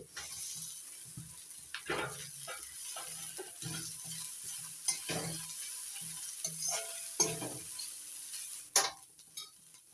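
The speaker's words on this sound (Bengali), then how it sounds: "এবার দিয়ে দিচ্ছি জল ঝরিয়ে নিয়েছি চিড়ে" Drained flattened rice (chira) tumbles into a hot frying pan for chira polao, giving soft sizzling and frying with scattered stirring clicks and scrapes, fairly close and moderately quiet.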